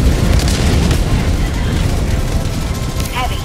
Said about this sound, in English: Throwing napalm by that dude.